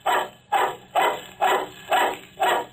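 A big shaggy dog barks six times in a steady, evenly spaced rhythm, each bark loud and close with no talking around it.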